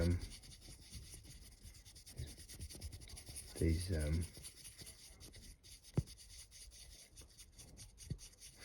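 Close, gritty scratching and rasping strokes repeat steadily as a fiberglass pen is scrubbed back and forth over a coin, with a few sharp taps.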